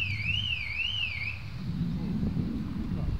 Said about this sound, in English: There's a warning alarm going off, mate.